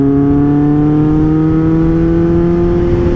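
A loud, heavily modified Kawasaki Z800 motorcycle engine runs at a steady high rev with a strong droning hum that climbs slightly, recorded close and alone.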